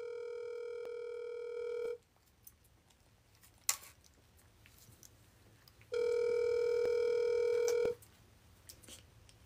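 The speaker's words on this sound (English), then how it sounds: "At the tone, please record your message." A voicemail recording tone on a forwarded phone call: two steady electronic beeps, each about two seconds long, over faint line hiss with a brief click between them.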